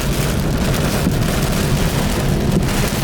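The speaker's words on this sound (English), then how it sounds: "The rain's picking up." Heavy rain pours down during a thunderstorm with 60 mph wind gusts, a dense, loud, continuous roar of rainfall and wind buffeting close by, with no talk.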